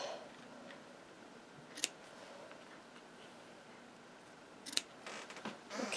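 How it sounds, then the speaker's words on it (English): Ribbon snips cutting ribbon during card making, two sharp, quick snips a few seconds apart, close by against quiet room tone with no speech. "A ribbon snips."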